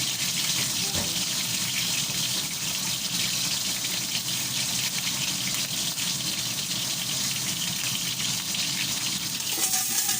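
Fish frying in hot oil for a Taiwanese-style dish, sputtering and splattering in a loud, continuous crackling hiss close by.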